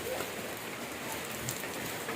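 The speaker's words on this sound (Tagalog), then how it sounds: "Grabe ulan." Heavy rain pours steadily onto a surface in a storage area during a car battery job, a dense continuous hiss of drops with no pauses, fairly close and loud.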